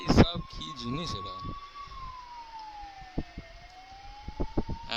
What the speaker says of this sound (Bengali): অ্যাম্বুলেন্স আসছে, অ্যাম্বুলেন্সের সামনে ঢুকে গেল।